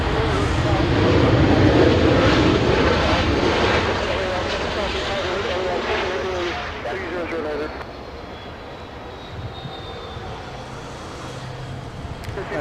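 A SkyWest airliner takes off early at Los Angeles International Airport, a broad engine roar that swells loud through the first seconds then eases and recedes, with voices talking over it.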